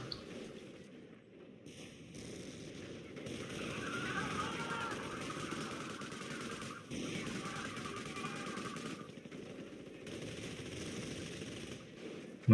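Gunfire crackles in a Company of Heroes battle, with repeated rattling bursts and volleys at moderate volume and a voice talking over parts of it.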